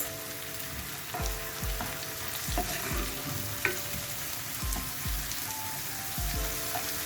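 Ginger garlic paste stir-fried in a pan: a constant sizzle with repeated spatula scrapes and knocks against the pan at an uneven rhythm, close and moderately quiet.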